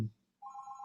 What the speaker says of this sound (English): I'm sorry that phone's ringing at this door.